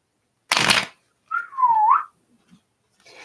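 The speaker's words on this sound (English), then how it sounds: "I probably shouldn't whistle" A person whistles a single sliding note, close and clear, preceded by a short burst of noise like shuffling cards, in an otherwise quiet room.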